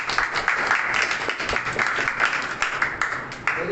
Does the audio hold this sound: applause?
yes